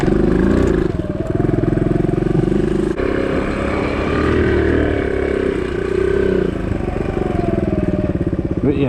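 A 2009 Suzuki DR200 dirt bike engine runs steadily in second gear while being ridden, a loud, continuous buzzing drone with slight rises and falls in revs and some rattling clatter, close to the microphone throughout.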